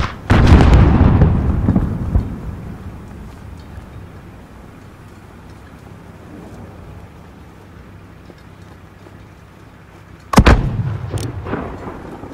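Mortar fire in the Call of Duty: Modern Warfare war game: a heavy, booming blast opens with a long rumbling tail that fades under low battlefield ambience, then a second sharp, loud explosion hits near the end.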